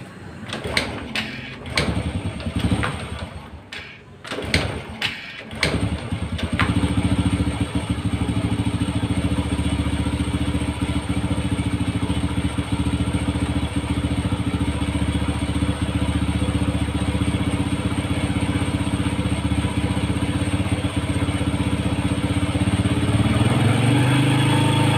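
A Honda Supra, Astrea or Legenda motorcycle gets a few clicks and clacks from its new ignition key switch, then the engine catches and settles into a steady, close, continuous idle.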